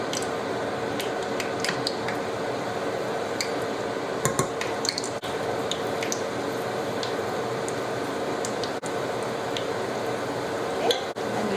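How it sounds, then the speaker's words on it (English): Spoonfuls of banana batter drop into hot oil in a small pot, a steady close frying crackle with soft wet squishes and occasional clicks of the spoon. "We're going to drop spoonfuls of it into the oil"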